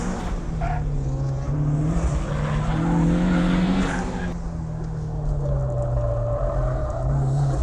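Flyin' Miata Turbo on a race track, engine droning and shifting pitch as the car brakes and corners, with tire squeal and rising revs, heard loud from onboard.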